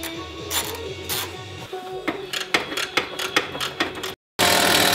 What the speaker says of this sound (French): Il n'y a plus qu'à enlever les 3 écrous qui se trouvent ici.